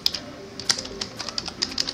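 Fingers tap quickly on a computer keyboard, producing a close, irregular patter of light clicks with small bursts and pauses.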